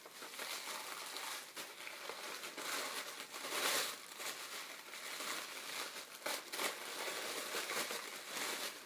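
A little pink pack of beauty products is unwrapped close up, with soft crinkling and crackling of plastic wrapping that comes in irregular bursts across several seconds, quiet and with no voices.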